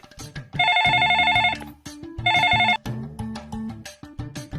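A phone ringtone in a comedy action film scene sounds as two loud, close electronic melodic bursts over a busy music score, with no talking.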